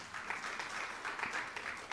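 A church congregation claps together during a sermon, a fairly faint, continuous wash of applause held evenly for the short stretch.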